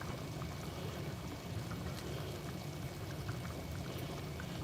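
Ricotta mixture for a turkey lasagna is poured into a dish, giving a steady, continuous low pouring wash that lasts several seconds without a break and with no talking.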